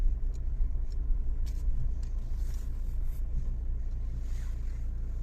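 A car drives along the road, heard from inside as a steady, low, moderately quiet rumble of engine and tyres, with no talking.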